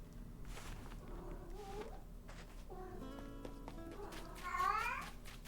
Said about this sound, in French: Ah non, elle miaule.